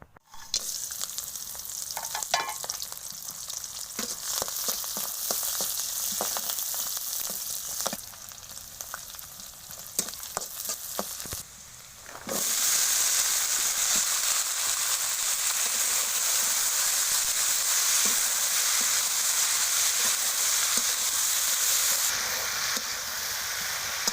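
Potato curry frying on a stovetop, a steady loud sizzle with intermittent clatter of stirring and scraping in the first half, then a denser, continuous hiss after a brief pause.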